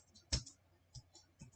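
A few soft, separate computer keyboard key presses, one sharper click followed by two lighter taps, close by in a quiet room; the escape key.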